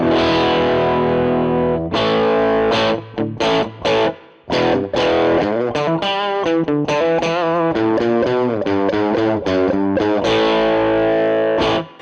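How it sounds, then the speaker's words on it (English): An overdriven electric guitar on the lowest overdrive setting plays a loud, gritty riff of sustained chords and quick bent notes, with short gaps between phrases. "Let's try the overdrive. Setting 1."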